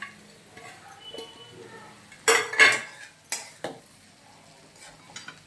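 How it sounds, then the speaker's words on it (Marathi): Spoon scraping and clinking against a pan while poha is stirred for a potato-onion poha breakfast, with a few louder clattering bursts in the middle and quieter scrapes around them, close by. "ते पण व्यवस्थित सगळीकडनं मिक्स करून घेऊया"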